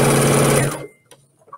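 A sewing machine runs in a short, loud, fast stitching burst close by, then stops abruptly, leaving faint handling clicks.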